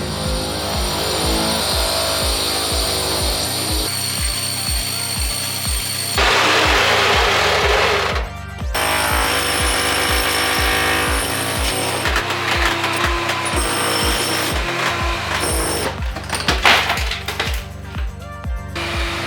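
A power drill grinds steadily through a wall for a long stretch with rhythmic pulsing, pausing briefly and starting again, loud and close with clattering in between.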